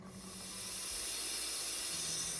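An inexpensive vacuum pump evacuating the air conditioning system of a Volkswagen Vanagon, a steady hiss with a low motor hum that grows slightly louder over the stretch, with no talking.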